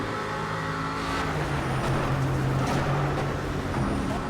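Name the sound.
Aston Martin V8 Vantage GTE engine in Project Cars video game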